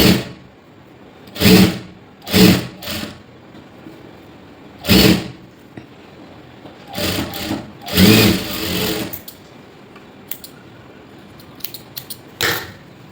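An electric sewing machine stitching a blouse sleeve runs in about eight short whirring bursts of a second or less, separated by quiet pauses, close and loud with no talk.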